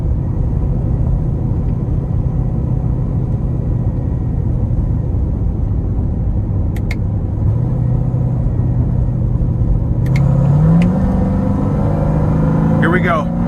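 A 2016 Chevrolet Corvette Z06 with 815 wheel horsepower rumbles steadily from inside the cabin, its engine note climbing and swelling as it drops through the gears, loud and continuous throughout.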